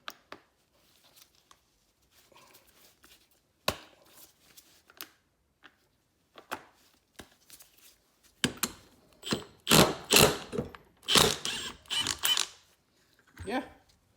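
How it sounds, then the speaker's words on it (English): A 1/2 inch impact wrench removes an alternator bolt on a 1994 Mercedes, with scattered light clicks and handling noises first, then several loud, close hammering bursts in quick succession toward the end. "impact wrench."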